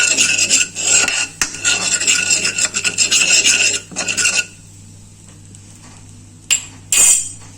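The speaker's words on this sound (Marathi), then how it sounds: "तेलामध्ये ही बेडगी मिरची पावडर टाकायची, मिक्स करून घ्यायचं।" Byadgi chili powder stirred into hot oil in a kadhai, loud rhythmic rasping scrapes of a spoon against the metal pan for several seconds, then a pause and a couple of brief scrapes and clinks.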